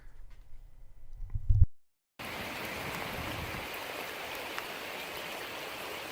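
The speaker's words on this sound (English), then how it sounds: "I went by this house and caught it during a rainstorm." Rainstorm falling on a yard with stone top dressing beside a house, a steady even hiss of rain that begins abruptly after a brief muffled noise and silence.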